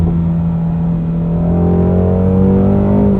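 2016 Ford Mustang Shelby GT350 engine revving after a downshift into third, heard from inside the car: a loud steady rumble with a rising engine tone that climbs as it pulls.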